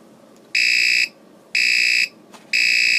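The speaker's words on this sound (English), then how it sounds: "So there goes that obnoxious alarm." Alarm of a 1975 General Instrument CPD1/200 digital clock, made in Taiwan: three loud, steady electronic buzzer bursts of about half a second each, separated by short pauses, with no talking.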